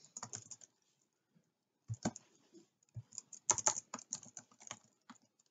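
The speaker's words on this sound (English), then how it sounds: "type in the interest rate" Typing on a computer keyboard while entering a spreadsheet formula: bursts of quick, light key clicks, close and fairly quiet, separated by short pauses, with no talk.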